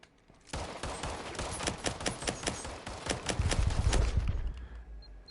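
Rapid pistol fire in the shooter Firewall Zero Hour, a dense run of sharp shots crackling one after another, loud and close, with a low rumble swelling near the end.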